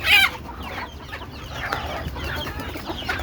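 Chickens on a small poultry farm, hens laying fewer eggs, cluck close by. One sharp, loud squawk opens, followed by a continuous low murmur of clucking from several birds against faint background noise.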